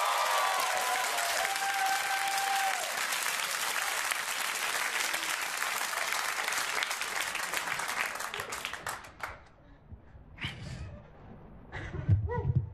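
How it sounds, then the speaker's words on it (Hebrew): An audience at a Hebrew satirical performance applauds: dense, loud, sustained clapping fills most of the stretch, then thins out into a few scattered claps and some crowd noise near the end. "ואתם תמחאו לי כפיים."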